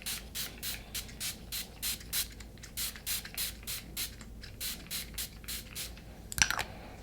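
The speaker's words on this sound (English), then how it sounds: "I am going to use the Versali Rose Gold Elixir Setting Spray," Repeated short bursts from a Versali Rose Gold Skin Mist setting spray, about a dozen quick pumps in steady rhythm, close and fairly quiet, ending with a faint clatter.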